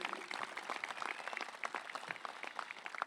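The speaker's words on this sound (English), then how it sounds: "Let's give those three ladies another round of applause on a beautiful rendition." Applause from a high school graduation audience, steady clapping from many hands at moderate distance, fairly faint and without talk.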